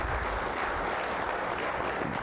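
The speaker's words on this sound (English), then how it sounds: "let's give a round of applause" Steady applause from an audience at a college football playoff preview event, a dense, continuous wash of clapping with no pauses.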